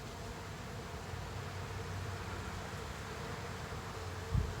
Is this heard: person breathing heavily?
no